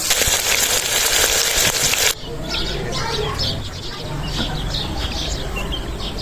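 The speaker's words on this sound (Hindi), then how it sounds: "घी गर्म हो चुका है तो प्याज शामिल करेंगे" Onions sizzle loudly in hot ghee in a karahi, a dense steady hiss that starts strong and then settles into a softer, continuous crackle with small pops.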